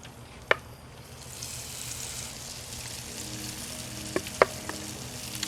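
Pickles fry in small batches on a Blackstone griddle with a constant, soft oily hiss, broken by a few sharp clicks and taps from utensils, and no one talking.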